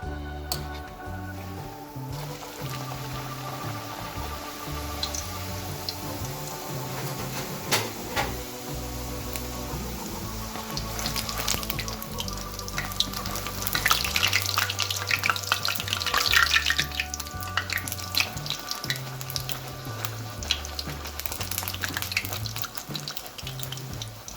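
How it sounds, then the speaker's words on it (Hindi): Puris deep-fry in hot oil, a soft continuous sizzle and bubbling with occasional clinks and stirring sounds from the pan, fairly quiet and steady throughout. "और इसी तरह से बाकी तमाम पूरियां भी तल लेंगे"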